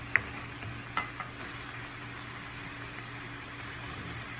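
Onions and flavor pepper sizzle steadily in a pot for Spanish rice, a soft continuous frying hiss with a few light clinks of stirring near the start, and no voices.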